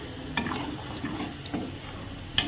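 Semolina (suji) dry-frying in a pan while being stirred, giving a soft, low scraping and rustling with a few sharp spoon taps against the pan, fairly quiet and close.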